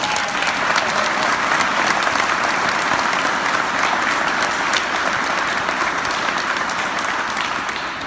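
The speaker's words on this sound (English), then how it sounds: "so let's give him a round of applause." A crowd applauds a firefighter academy graduate at his promotion ceremony, with steady, dense clapping that fills the room for the whole stretch at an even, loud level without letting up.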